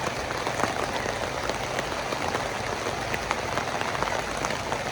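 Rain pours down steadily outdoors, a dense, even patter with scattered closer drops, continuous and fairly loud with no voices.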